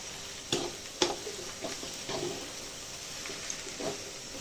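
Onions sauté in a pan, a soft, steady sizzle punctuated by a few sharp spoon knocks and stirring clatters early on, heard up close with no talking.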